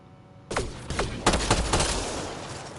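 Gunfire in Mass Effect Andromeda, heard as a burst of several sharp shots that starts suddenly and keeps going as dense, loud, close firing.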